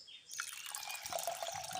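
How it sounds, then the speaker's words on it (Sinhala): Water poured onto split lentils in a pot for boiling, a short continuous splashing pour that starts after a brief pause and runs steadily, close and soft. "කඩලා පරිප්පු එකට වතුර ටිකක් දාලා තැම්බෙන්න තියාගෙන ඉමු."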